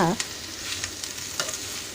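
Pumpkin leaves sizzling in hot oil, a soft steady crackle with a few scraping stirs, close by and without speech.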